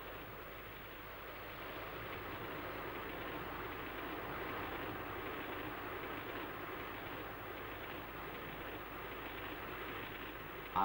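Steady low rumble of a 1960s passenger train running along the tracks on the Trans-Siberian route near Peking, a continuous even drone with no voices.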